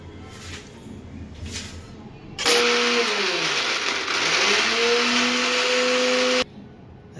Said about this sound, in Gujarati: ચારેય વસ્તુને દળી નાખીએ